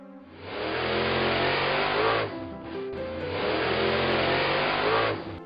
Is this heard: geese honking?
no